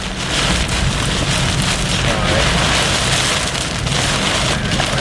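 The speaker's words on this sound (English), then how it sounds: "there's even a small hail falling. You can hear it." Small hail and large raindrops pelt down during a Florida storm, a loud, dense, unbroken patter that holds steady throughout, with a brief spoken word partway through.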